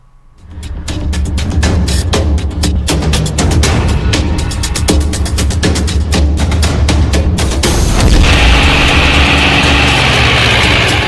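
A tractor engine runs loud and steady during a stunt, a heavy continuous drone with rapid knocking pulses that thickens into a rougher roar near the end. No one speaks.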